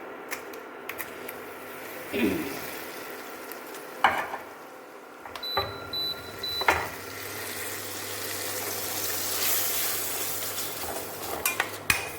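Kashmiri chili and cumin roasting in a pan on a stove, a steady soft sizzle with occasional clinks and scrapes of a spoon against the pan, and faint talk in the background.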